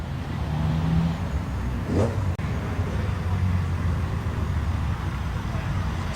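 A 1990s Ford Escort Cosworth driving past at a mixed vehicle show, a steady engine rumble with a brief rising pass-by whoosh, under ongoing commentary.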